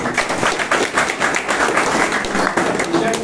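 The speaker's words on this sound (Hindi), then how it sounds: "सबसे पहला उनके लिए तालियां बजाना." An audience claps at a health products cancer awareness event, a steady dense burst of applause throughout.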